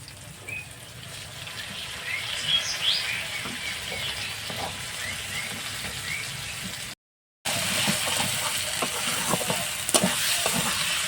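Potatoes with onion and ginger-garlic paste sauté in a pan, a continuous close sizzle with scraping stirs throughout, cut by a brief dropout before the frying resumes a little brighter.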